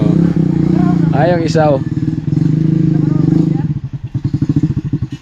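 A small motorcycle rides past on a wet road in the rain, its engine a low steady drone that rises into a rough, pulsing putter as it nears, with someone talking over it throughout.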